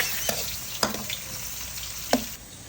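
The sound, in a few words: tomatoes sautéing in a wok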